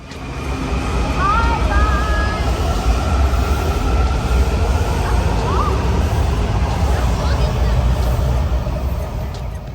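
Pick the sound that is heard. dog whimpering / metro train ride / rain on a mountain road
metro train ride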